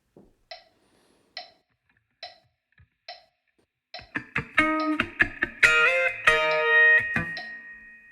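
An electric guitar plays a bar of a song: a few sparse, evenly spaced muted plucks, then a quick run of ringing, sustained notes, close and clear with no voice.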